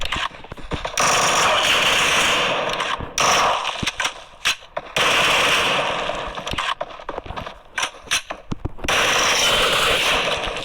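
Gunfire in the video game PUBG, with long loud bursts of rapid automatic shots broken by brief pauses and scattered single cracks, filling the whole stretch.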